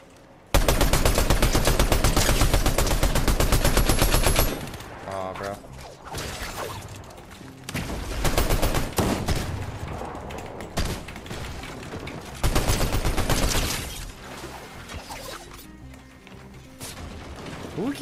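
Rapid gunfire bursts in the Fortnite video game, a dense rattling volley at the start followed by scattered shots and game effects, fairly loud and close.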